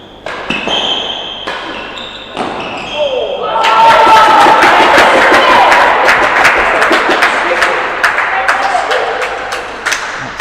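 A support crew in the side galleries at a match cheers and applauds, clapping rising into a loud, sustained crowd roar after a few scattered claps and thuds.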